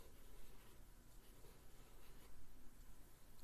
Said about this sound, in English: Let's go ahead and write this word see.